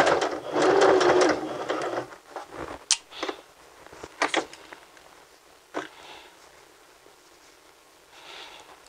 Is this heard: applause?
no